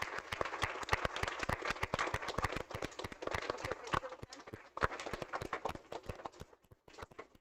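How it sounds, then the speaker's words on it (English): A small room of people claps for a high school culinary class that cooked dinner for a school board meeting, a dense, steady patter of hand claps that thins out and fades toward the end. "Can we give them a round of applause, please?"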